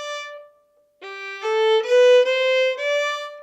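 Violin plays the opening two measures of Minuet 3 with a jumping third finger, a held note fading out, a brief pause, then four or five bowed notes, close and resonant, no talking.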